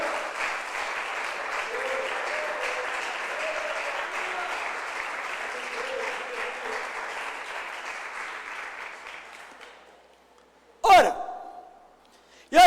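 A church congregation applauds in a long, even wash of clapping that gradually fades to near silence, followed by a couple of sharp, close bumps or knocks.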